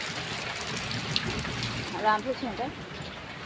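Heavy rain pouring down with drains overflowing, a steady hissing wash of water with trickling under a voice speaking briefly.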